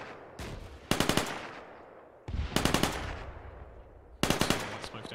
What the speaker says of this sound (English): Just push some short bursts out above the smoke.